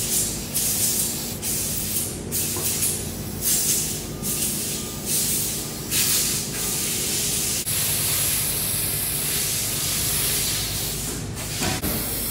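An air hose sprays in bursts while lining gored elbows with Owens Corning ductboard, producing loud, close hissing blasts that come in repeated pulses and then hold as a longer, steady rush.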